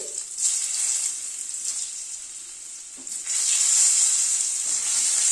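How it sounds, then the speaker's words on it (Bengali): Potato pieces frying in hot oil in a pan, tempered with kalo jeere (nigella seeds) and a green chilli, crackle and sizzle steadily, growing louder and denser after a few seconds of stirring. "আলুটাকে আগে একটুখানি ভেজে নিচ্ছি।"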